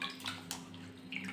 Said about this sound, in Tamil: இதை நல்லா வாஷ் பண்ணிக்கலாம்.